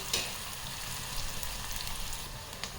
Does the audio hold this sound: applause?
no